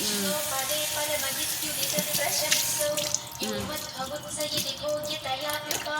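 Water streams steadily from a tap, splashing and gurgling into a sink while a blender gasket is rinsed, with faint background voices underneath.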